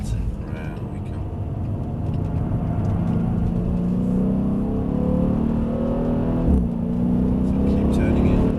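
A car brakes hard and turns a corner, its engine and tyres a steady rumbling drone with pitch rising and shifting through the turn, while an instructor talks over it.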